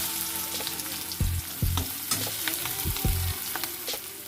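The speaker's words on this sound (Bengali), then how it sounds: "পেঁয়াজ ফোড়ন দেবো" Onion and chili tempering fries in hot oil, a soft sizzling hiss broken by a few low thumps and knocks from a utensil against the pan.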